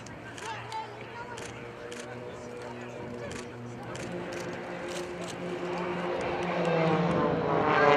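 Aerobatic airplanes pull up into the vertical at an airshow for a champagne fountain manoeuvre at about 300 mph: a steady engine drone that swells toward the end, heard under continuous commentary.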